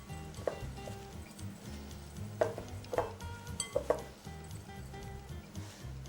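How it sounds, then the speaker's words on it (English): A fork breaks up apple crumble mixture in a bowl with soft scraping and a handful of sharp metallic clicks against the sides, all fairly quiet. "I'm literally break that up with a fork as well"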